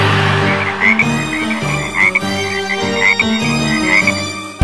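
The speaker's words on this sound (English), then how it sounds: "It started raining frogs once." Frogs croaking in a rhythmic repeating chorus, loud and close, over continuous music in a children's Halloween song.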